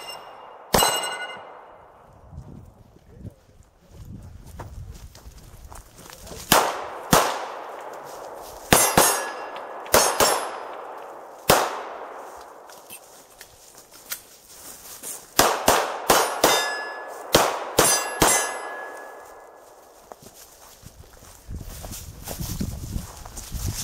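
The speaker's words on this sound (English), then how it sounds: "I'll throw a quick clip of me at the farm shooting" Gunfire at steel targets on a farm: sharp, loud shots ring out one at a time with metallic clangs, spaced irregularly, then in quicker clusters, outdoors and without talk.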